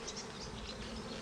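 Honeybees buzzing at an open hive during an inspection, a steady close hum with wavering higher tones of individual bees, no talk.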